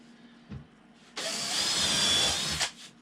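A power drill bores a pilot hole into wood for a bonsai backdrop, whining loudly and steadily for about a second and a half between brief knocks and handling noises.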